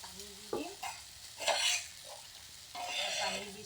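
Tomatoes and spinach frying in a pan for a fish-and-spinach dish, heard as a faint sizzle broken by a few scraping stirs of a spatula, close and quiet.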